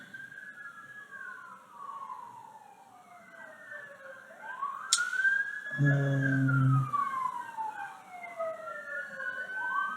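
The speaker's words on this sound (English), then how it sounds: "I wonder what's going on because there's been a lot of sirens back to back" Several wailing sirens sweep up and down at a distance, overlapping, with a brief louder horn blast midway and a short murmured word.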